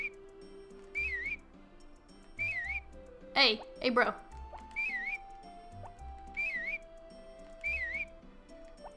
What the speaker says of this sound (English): But with the dog, you do want to whistle for him.